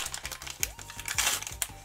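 A plastic snack packet crinkled and handled up close, producing dense rustling and crackling bursts with sharp crisp peaks, repeated over a faint steady low hum.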